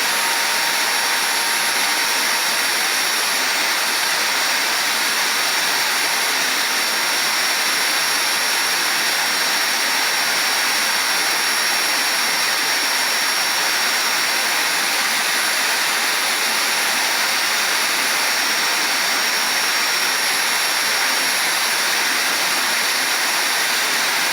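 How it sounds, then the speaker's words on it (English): A vacuum cleaner roars steadily and loudly with a high whine, unbroken for the whole stretch. "the vacuum cleaner was taking too long"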